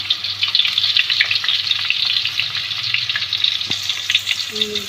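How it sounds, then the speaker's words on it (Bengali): Finely chopped onions fry in hot oil for a traditional Rajshahi potato curry, making a loud, close, continuous crackling sizzle that carries on without any speech. "আমার অয়েলটা গরম হয়ে গেছে আমি পেঁয়াজ কুচি কুচি দিয়ে দিই"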